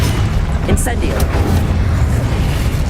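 Incendio fire spell cast in Hogwarts Legacy, a couple of short whooshing bursts early on over constant loud combat rumble, with a character's voice calling out.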